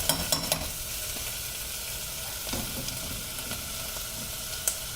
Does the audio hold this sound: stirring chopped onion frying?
yes